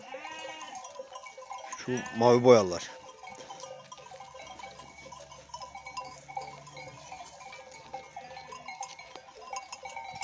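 Sheep and young breeding lambs, with a ram among them, bleat on a farm. One loud, close bleat stands out above fainter background bleats, and someone talks in Turkish.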